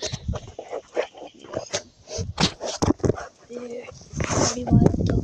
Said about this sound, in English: Here's the wild dog.